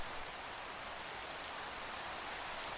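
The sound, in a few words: rain in a video game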